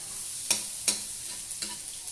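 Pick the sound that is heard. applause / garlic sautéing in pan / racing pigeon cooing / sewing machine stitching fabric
garlic sautéing in pan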